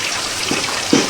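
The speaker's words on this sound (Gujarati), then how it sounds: "ભાવનગરમાં ભારે વરસાદ" Heavy rain falls in Bhavnagar, a dense, steady hiss of water close around, with a couple of louder splashing drops standing out.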